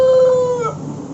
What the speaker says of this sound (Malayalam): ഈ ഒരു കോഴിക്ക് അടിയിൽ ബൂട്ടൊക്കെ ഇറങ്ങിയിട്ട് പിന്നെ വാലൊക്കെ മറ്റേ ചുളിഞ്ഞ് അടിപൊളിയായിട്ടുള്ളൊരു കോഴി